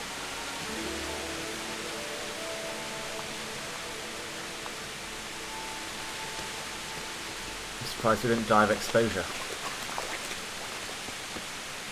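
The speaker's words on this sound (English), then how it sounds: "And it's raining again." Steady hiss of rainfall in the video game Kingdom Come: Deliverance throughout, with a brief spoken voice near the end over the rain.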